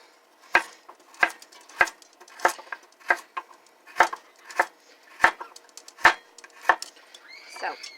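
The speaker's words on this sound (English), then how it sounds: "So I'm just going to chop these in big, chunky pieces." Knife chopping carrots into big chunky pieces for a beef stew on a cutting board, about a dozen crisp, evenly spaced chops close up, with no talking.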